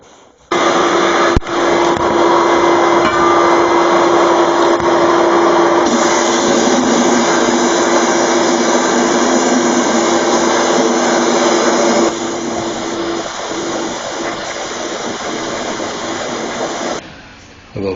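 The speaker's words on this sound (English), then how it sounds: "That's running a compressor at about 100 psi." Abrasive blasting with GreenGrit media, fed by a compressor at about 100 psi, makes a loud, steady, roaring hiss that eases slightly partway through and then cuts off near the end.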